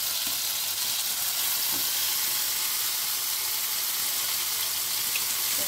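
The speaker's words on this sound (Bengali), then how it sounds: "এখন দিয়ে দিচ্ছি টমেটো, আদা, কাঁচা লঙ্কার পেস্টটা" A paste of tomato, ginger and green chili sizzles in hot oil, giving a loud, even, continuous hiss close by with no talking.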